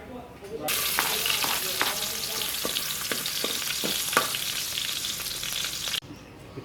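Garlic sizzles and fries in a pan for a Filipino sautéed chayote dish, with a loud, continuous crackle that starts abruptly and is punctuated by a few stirring scrapes before cutting off near the end.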